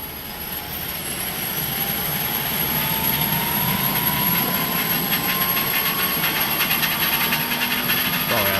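Engine number 2 of an Inibuilds Airbus A300 spools up in a flight simulator. A steady, loud turbine roar builds with a rising whine and a high constant tone, and no one speaks.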